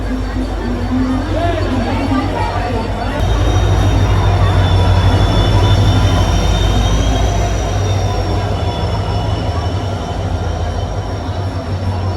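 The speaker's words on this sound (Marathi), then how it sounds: "चला आता ट्रेन इलेली आहे आपली." The Tutari Express rolls into a Konkan Railway station, a loud, close, continuous rumble with a steady high wheel squeal, while a crowd murmurs on the platform.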